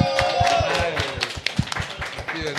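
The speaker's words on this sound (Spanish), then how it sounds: "¡Un fuerte aplauso," A group claps and cheers in a broad, steady burst, briefly applauding a band during a casual interview segment, with sharp hand claps standing out near the close.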